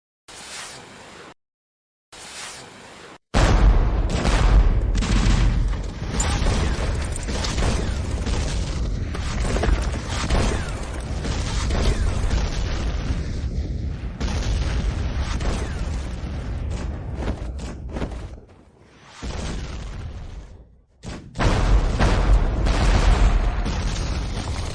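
Gunfire and explosive booms in an animated fantasy battle with firearms, a loud, dense, sustained barrage after a brief quieter opening, with short gaps and a final burst, and no talking.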